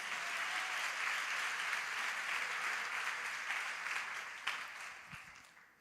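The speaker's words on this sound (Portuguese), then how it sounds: "Vamos aplaudir o Senhor pela vida dele." A church congregation applauds steadily for several seconds, a broad wash of clapping that thins and fades away at the end.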